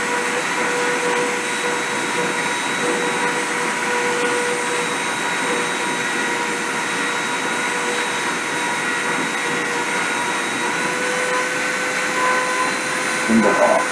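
A machine spindle runs at constant speed, giving a steady, loud, unbroken whine and hum that lasts the whole stretch without change.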